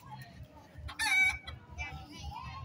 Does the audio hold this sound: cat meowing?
no